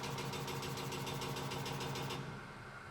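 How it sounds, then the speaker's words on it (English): BMW E38 7 Series electronic EDC shock absorber pumping on an electromagnetic test dyno at high speed, a loud steady mechanical drone with fast rhythmic pulsing that cuts off sharply near the end, no voices. "On our electromagnetic dyno, we can test the shock absorber at very high speeds"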